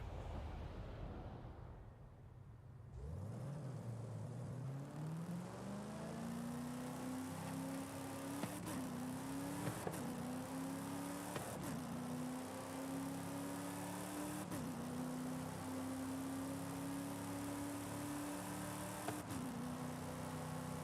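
An AMX Javelin, a D-class car in Forza Horizon 5, accelerates along a highway: the engine note climbs through several gears with repeated brief dips at each shift, a sustained loud drone from start to finish.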